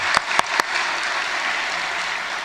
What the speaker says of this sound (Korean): 중등부의 축복의 박수.